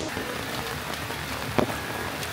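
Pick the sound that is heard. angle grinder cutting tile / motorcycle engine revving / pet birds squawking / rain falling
rain falling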